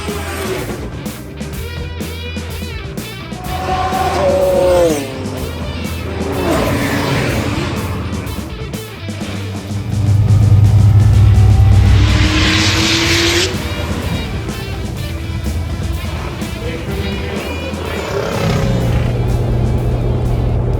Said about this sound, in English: What does Bunny think about roll racing now?